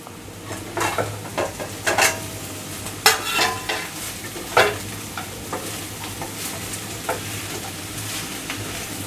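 Gobi Manchurian with spring onion and coriander tossed in a pan, a soft continuous sizzle punctuated by many sharp spatula scrapes and clanks in an uneven rhythm, close by.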